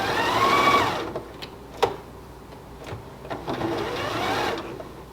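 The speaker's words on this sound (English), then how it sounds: "So we'll put this under here, lower our foot, and stitch. We can raise our foot and pivot and stitch." A Janome Skyline S3 sewing machine stitching, a fast close mechanical whirring run that stops, then light clicks and ticks before a second whirring burst.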